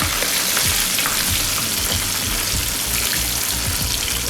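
Pieces of fried chicken sizzle hard in hot oil over a full high flame, a dense steady crackle and hiss with faint clinks underneath, close and loud throughout.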